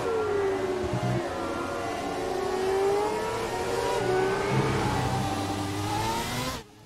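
Formula 1 cars in the F1 2017 video game race past with a high, whining engine note that rises and falls through gear changes, steady and fairly close, under quiet commentary, cutting off abruptly at the end.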